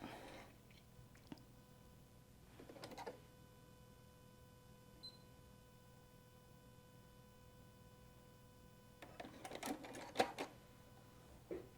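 A sewing machine stitches a seam on a cuddle pillow in a quiet room, with faint scattered bursts near the start and a louder cluster of stitching toward the end.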